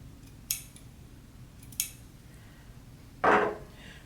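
A few quiet, sharp snips of scissors cutting small nicks in fabric, spaced apart, then a slightly longer cut, against a faint background hiss.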